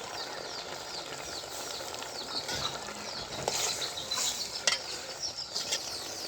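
A fish curry with gram leaves is stirred and sautéed in a pan, giving a continuous scraping, crackling sizzle with irregular clicks of the spatil growing busier toward the end.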